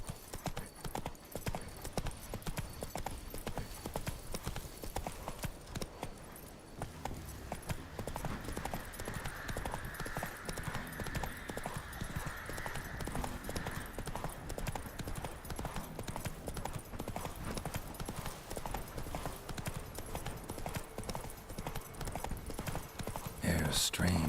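Hoofbeats of Roach, the horse in The Witcher 3, clopping steadily and continuously in a fast rhythm, close and clear, with spoken dialogue over them at times.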